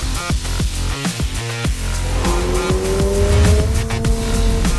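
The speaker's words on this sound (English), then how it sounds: "I can put this car anywhere I want on the racetrack" A 2022 Subaru BRZ on sport tires driven hard on a racetrack, engine rising and shifting through gears with a loud, close, steadily climbing revving tone and some tire noise.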